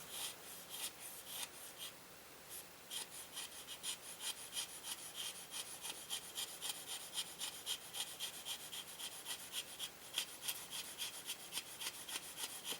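A knife blade shaves fine curls from a super dry wooden dowel rod, producing a continuous faint, scraping rasp of repeated short strokes with no talking.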